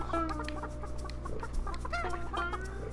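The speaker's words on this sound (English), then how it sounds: "What do the chickens have to say?" Chickens cluck repeatedly in the video game Burly Men at Sea, a busy overlapping stream of short clucks and squawks over a steady low background hum.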